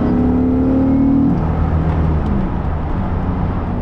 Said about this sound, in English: all the sound is behind me, because the engine is in the back of the car.